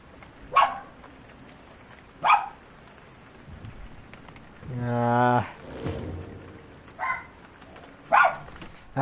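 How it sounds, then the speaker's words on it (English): Several short dog barks, sharp and separated by pauses, ring out during a game session, with a burst of voice or game sound in the middle. "I apologize for my dogs."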